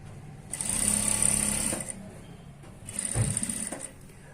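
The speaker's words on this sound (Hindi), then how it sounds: "और यहाँ से हम पूरे राउंड में इसे सिलाई लगाएंगे।" A sewing machine runs two stitching bursts around a one-piece dress at the waist, each lasting over a second with a short pause between, close and steady with a higher whine.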